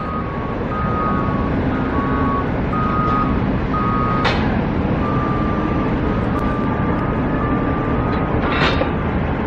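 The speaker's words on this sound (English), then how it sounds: "just saw this dump truck here. So he's dumping dirt here." A dump truck at a stadium construction site emits a steady series of reversing beeps over a constant loud rumble of heavy machinery, with a couple of brief clanks.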